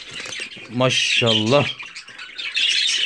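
Albino crested jumbo budgerigars, two birds unpacked from a shipping box, give loud harsh squawks in two bursts of a second or so each, close by, with someone speaking briefly before and between them.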